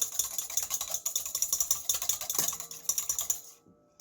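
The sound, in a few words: whisking an egg in a mixing bowl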